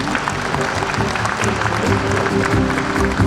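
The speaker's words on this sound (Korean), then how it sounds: "따뜻한 박수 부탁드리겠습니다" Warm applause from an audience at a large formal gathering of Korean business leaders, a dense steady clatter of clapping filling the room for a few seconds.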